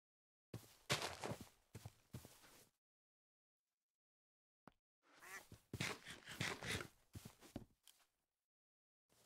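Repeated quacking from a duck in the Minecraft video game, two clusters of short calls separated by a silent gap, close and fairly quiet with no one talking over them.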